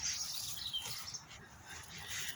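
Faint birdsong chirps softly in the distance against a quiet forest background, with scattered high tweets and no talking.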